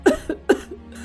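A woman coughs loudly and harshly, two close pairs of hacking bursts in quick succession, near and alone.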